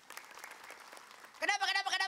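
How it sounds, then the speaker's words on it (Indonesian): A studio audience at an Islamic religious talk show gives a short burst of scattered, moderately faint clapping before a voice begins speaking over its tail. "Tepuk tangan dulu."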